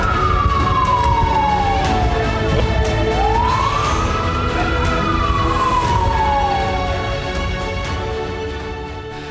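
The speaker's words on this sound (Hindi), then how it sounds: "इजराइल में वॉर सायरन बजने" An air raid war siren in Israel wails loudly, its pitch sweeping down, rising again, then falling in a long slow cycle, steady and dominant throughout, fading slightly toward the end.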